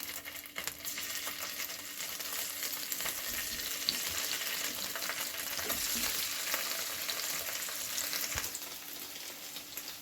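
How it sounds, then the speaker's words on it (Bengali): Paneer pieces fry in hot oil with a steady, even sizzle and crackle, close and continuous with no talk. "তেল গরম হয়ে গেছে, এবার আমি পনির একটা একটা করে ছেড়ে দিলাম।"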